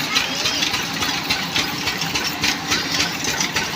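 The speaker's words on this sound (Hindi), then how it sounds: "जनरेटर से चल रहा है ये।" Engine powered by a generator drives a chura (flattened rice) pounding machine, a steady loud mechanical drone with rhythmic knocking pulses throughout, close by.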